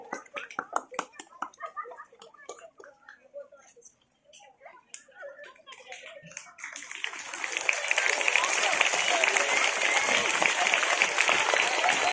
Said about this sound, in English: stop clapping and listen